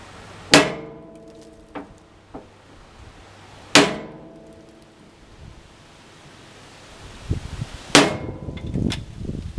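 A hammer bangs on thick metal on an abandoned backhoe, three loud ringing strikes spaced a few seconds apart with a couple of lighter taps between them, outdoors with some rustling.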